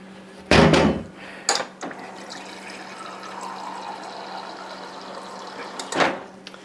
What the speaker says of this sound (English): Let me get a little bit of water